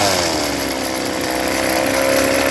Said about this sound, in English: It runs. I think I got to slow the idle speed down a little bit.